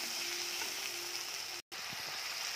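Spice paste with tomato sizzles steadily in hot oil while being cooked down for chicken kosha, a dense continuous frying hiss that drops out for a brief instant before resuming.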